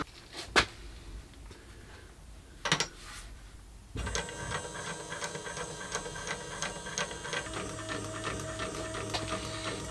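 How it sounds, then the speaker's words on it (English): A small electric motor drives a spray bottle pusher mechanism, starting abruptly after a few knocks and then running as a steady, close mechanical whir with rapid rattling clicks. "let's see if the motor is stronger than the solenoid and if it works with the motor"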